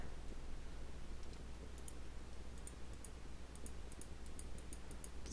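A computer mouse clicks on objects in a Flight Simulator X scenery editor, with a few faint, quick, scattered clicks over a steady low hum and no talking.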